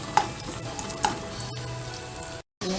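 Tilapia and squid frying together in a pan, a steady close sizzle with a few sharper pops and a soft clink near the start, running unbroken until a brief dropout near the end.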